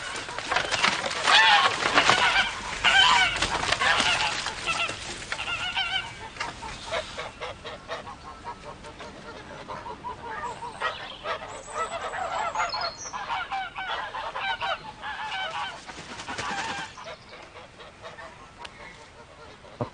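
A flock of geese honks and hisses in a yard, a dense, continuous chorus of overlapping calls that is loudest early on and then settles to a steady, busy clamor with no talk.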